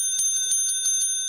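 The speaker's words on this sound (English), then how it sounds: "Got our own little mini bell." A small mini bell rings in a quick series of about six bright, clear metallic dings, close and fairly loud, each with a short ringing decay, with no one talking.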